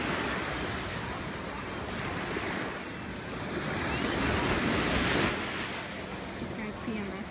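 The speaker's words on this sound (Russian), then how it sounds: "Какие волны на океане, не то что на море." Atlantic Ocean surf at Ocean City rolls and crashes onto the shore in a steady roar, with gusty wind buffeting the microphone and a swell of louder breakers midway.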